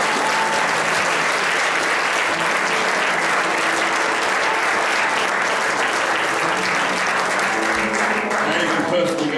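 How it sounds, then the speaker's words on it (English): A large audience applauds throughout an auditorium at a ministry conference, a loud, dense and continuous wash of clapping that fills the room for the whole stretch, with a few voices mixed faintly underneath. "Why don't you give them all a round of applause?"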